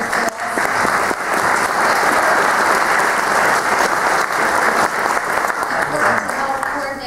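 A crowd at a nursing graduation ceremony gives sustained applause, a dense, even wash of clapping that holds steady at full loudness throughout.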